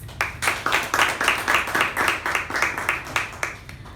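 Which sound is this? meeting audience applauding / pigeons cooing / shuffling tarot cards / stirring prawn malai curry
meeting audience applauding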